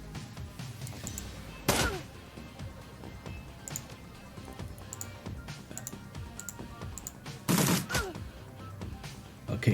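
Gunfire in the tactical game Shadowrun Returns, two loud shot bursts separated by several seconds, set over a steady background bed of game sound and softer thuds.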